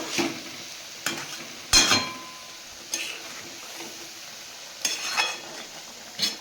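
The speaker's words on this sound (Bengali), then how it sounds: "এদিকে শাক ভাজাটাও হয়ে এসছে" Leafy greens frying in a pan, with a soft continuous sizzle broken by several spaced clacks and scrapes of a stirring utensil, no voices.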